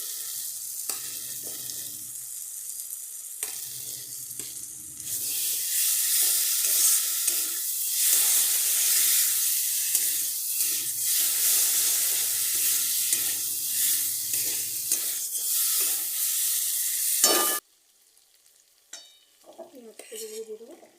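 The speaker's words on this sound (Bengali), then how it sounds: "এবার আমি মাছগুলি দিয়ে দেবো।" Dried loitta fish hitting hot spiced oil in a pan, a loud steady sizzle and frying hiss that runs for most of the stretch, then cuts off abruptly, leaving quieter clinks and stirring.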